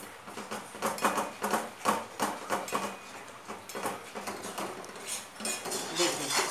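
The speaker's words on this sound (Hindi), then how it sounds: "थोड़ा थोड़ा मिल्क पाउडर डालते रहिए और इसे अच्छे से मिक्स करते रहिए" Milk powder mixture for peda being stirred in a pan, with a steady run of quick scraping, clattering utensil strokes against the metal, close and fairly quiet with no talk.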